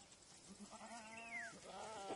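A goat bleats in the mountains of Kurdistan, one wavering harmonic call followed by a shorter second cry, moderately close and fairly faint over a quiet outdoor background.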